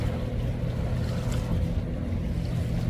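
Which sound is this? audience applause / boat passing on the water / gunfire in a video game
boat passing on the water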